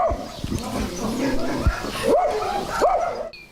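Several dogs bark and yip in short bursts, with whimpering rising calls, fairly close and lively, against a rough outdoor background in a Ukrainian village near the front line.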